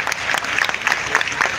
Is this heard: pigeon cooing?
no